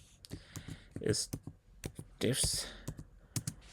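Keys tapped on a computer keyboard while entering a machine name for a macOS virtual machine on an Apple Silicon Mac, scattered close clicks interleaved with bursts of a nearby voice talking.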